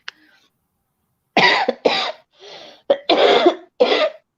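Several harsh, loud coughs in quick bursts, with brief pauses and a throat-clearing sound between them.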